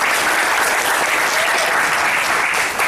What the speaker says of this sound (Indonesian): Boleh aplaus buat teman-teman yang Kalimantan sini.